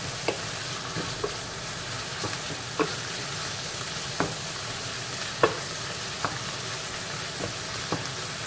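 Rice with vegetables and pepper stirred in a pan, a steady low sizzle under a run of soft scraping taps roughly every second, close and fairly quiet.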